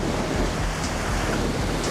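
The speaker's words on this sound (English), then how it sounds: "some huge waves pounding up here" Huge ocean waves pound a rugged coastline in a windstorm, a steady loud roar of surf and wind buffeting the microphone throughout, with no clear breaks between surges.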